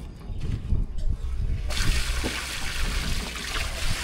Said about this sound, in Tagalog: Lagyan naman ng tubig.